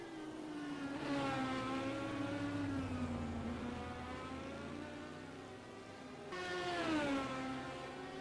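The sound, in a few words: race cars, yellow Corvettes, in a racing video game at Road America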